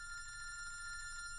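A telephone bell rings continuously and steadily, a bright trilling tone held throughout at moderate volume, with no one speaking.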